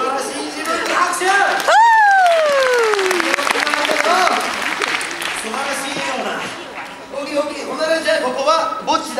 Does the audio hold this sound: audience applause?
yes